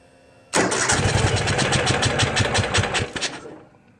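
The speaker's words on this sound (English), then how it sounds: "Put it on neutral, and it will start with 1 cylinder." A 2015 Ural motorcycle in neutral cranks and catches on one cylinder, bursting into a loud, rapid, uneven chugging that runs for about three seconds before fading out.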